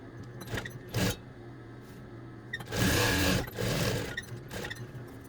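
A sewing machine stitches across fabric for a drawstring gift bag in short bursts of rapid mechanical whirring, the longest in the middle, separated by quieter pauses and small handling clicks.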